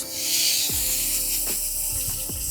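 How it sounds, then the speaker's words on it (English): A steady hiss of water spraying soil off pieces of a peace lily runs throughout, close and continuous, with a few low knocks and splashes underneath. "lay these pieces down and just spray them off."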